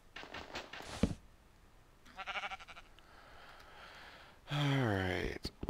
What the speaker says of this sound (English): Out of the way, stupid sheep.